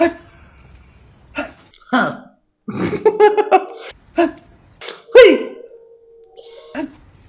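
Several sharp, abrupt hiccup-like catches of breath come at uneven intervals, close and fairly loud, with short bits of voice and a sustained tone between them.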